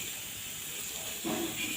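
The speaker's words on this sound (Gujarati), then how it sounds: "ફ્રાય થાય છે, થાય છે, થાય છે." Food fries in a pan in a home kitchen, giving a steady, dense sizzling hiss that swells a little louder toward the end. No voices are heard.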